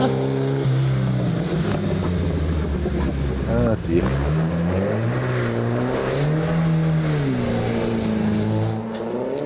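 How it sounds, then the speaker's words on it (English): A home-built Chimera hill climb car powers up a hillclimb course, its engine note rising and falling through gear changes and revs at moderate distance, with brief exclamations from onlookers over it. "John Parker's home-built contraption is coming up the hill now."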